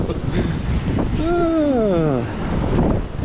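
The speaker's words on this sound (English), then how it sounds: "At least it's not as windy as it could be." Steady gusty wind roars across the microphone, with a brief wavering voice-like tone sliding downward midway through.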